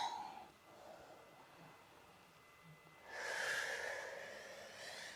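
A yoga instructor breathing, a soft nasal inhale followed by a longer, louder airy exhale, close and quiet with no talking.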